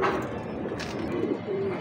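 Pigeons coo softly and continuously close by at a pigeon sale in Lahore, a low throaty murmur over a steady background hum.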